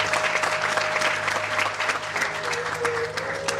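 Loud, dense applause from a gathered audience at a Bhojapur vatika honoring ceremony during a Sanskar Vatika convention in Pune, steady throughout with a faint tonal hum underneath.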